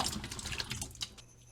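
Potatoes are dropped into a pot of water for boiling, with steady sloshing and splashing over about a second and a half and a brief clink near the end.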